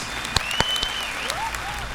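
Scattered hand claps and applause from a small group, a few sharp claps standing out above a steady patter, with faint talk underneath.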